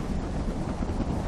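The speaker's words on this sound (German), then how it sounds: "Dann erfassen die Winde auch die Bergsteiger weiter unten." Strong hurricane-like wind on Mount Vinson blowing snow around, a loud, dense, continuous roar buffeting the microphone with no pauses and no voices.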